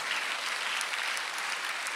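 A church congregation at a Sunday worship service claps together, a loud, even, continuous roar of many hands with no voices on top.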